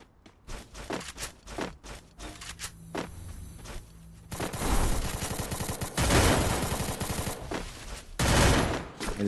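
Rapid video game gunfire rattles in quick bursts, then swells into sustained, dense automatic shooting, loud and close, with a few footsteps early on.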